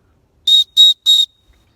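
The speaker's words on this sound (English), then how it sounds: "You do have built right into the clasp there, you can see that little part sticking out. That is your whistle," A survival whistle built into the clasp of a Wazoo bracelet gives three short, loud, shrill blasts in quick succession, each about a fifth of a second long, with clean silence between them and no talking.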